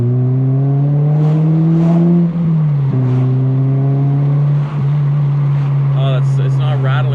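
A Toyota Celica GTS-R engine runs smoothly after an exhaust repair, idling with a steady low hum and a slight rise and dip in revs, loud and close.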